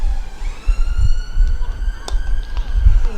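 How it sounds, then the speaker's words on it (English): A siren wails past at a distance, its rising and falling tone faint beneath a low rumbling ambient background at a cricket ground. "It's the sound of a siren going past."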